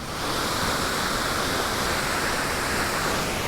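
Steady, broadband rush of a waterfall at Jack-o'-lantern Falls along a hiking trail, a continuous roaring hiss with no pauses.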